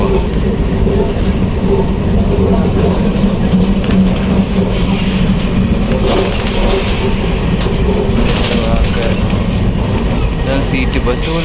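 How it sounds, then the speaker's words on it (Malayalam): Kolkata city tram rolling along street tracks, a continuous close rumble with wheel clatter and rattling carriage noise throughout, while someone talks over it. "ട്രാം എന്നറിയപ്പെടുന്ന ടൗണിലൂടെ ഓടുന്ന ട്രെയിൻ."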